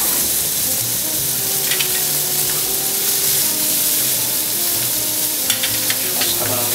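Shrimp sear in a hot frying pan, a loud, continuous, close sizzle with faint crackles and a steady low hum beneath, no speech.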